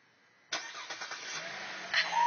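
A car's engine starts with a remote start button, catching abruptly and settling into a steady mid-pitched idle close by, with a slight rise near the end.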